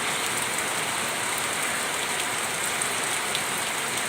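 Steady rain pours down in a dense, unbroken hiss, close and even throughout with no voices.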